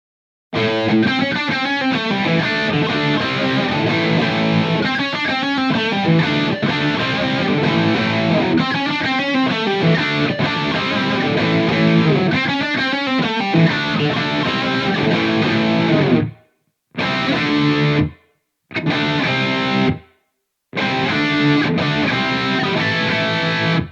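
Distorted electric guitar played through a Mooer GE300 JCM800 amp model with Ownhammer cabinet plays a driving riff with heavy amp crunch and room reverb, ending in several short bursts separated by abrupt silences.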